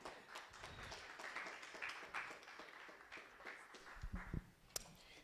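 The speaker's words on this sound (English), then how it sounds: "A round of applause for him as he comes up" Conference audience applause as the next speaker comes up to the stage, a steady wash of clapping with scattered sharper claps and a few louder taps near the end.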